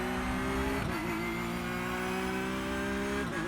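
A Porsche GT3R race car in the iRacing sim on the Montreal circuit drones with a steady, close engine note, its pitch dipping briefly at two gear changes.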